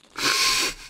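A whoopee cushion hidden in a handshake from the video game Undertale gives a short, breathy, flatulent blurt lasting about half a second, heard alone.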